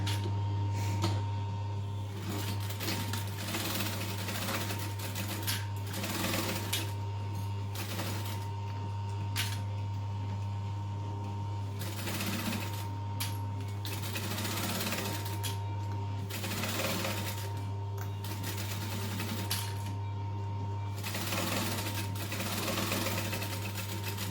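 A sewing machine stitching a bag seam, running in steady rhythmic stretches broken by short pauses, with a constant motor hum underneath throughout.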